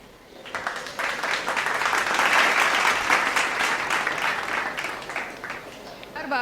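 Audience applause for a student at a scholarship ceremony, a full crowd clapping that builds quickly, stays dense for several seconds and thins toward the end, with faint voices mixed in.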